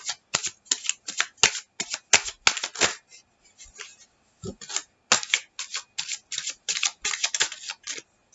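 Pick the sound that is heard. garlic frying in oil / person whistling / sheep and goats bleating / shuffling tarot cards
shuffling tarot cards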